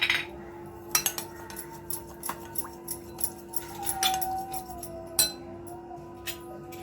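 A spoon clinks repeatedly against a glass or bowl while a spoonful of sugar is added, bright small taps spread across the moment over a faint steady hum.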